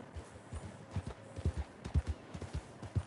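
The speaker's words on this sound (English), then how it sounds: "I bonded with my horse, now I can rear back with him." Horse hooves galloping in the online game Red Dead Online, a steady rhythmic clip-clop of repeated low thuds with a faint whinny, no talk over it.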